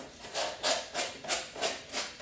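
Sandpaper works a foam armor thigh piece for a Halo cosplay, making steady rhythmic rasping strokes about twice a second, close and clear with no voices.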